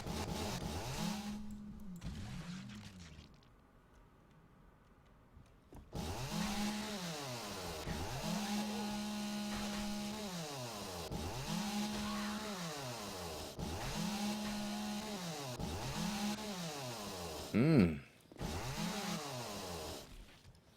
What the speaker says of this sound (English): I guess that's how chainsaws are.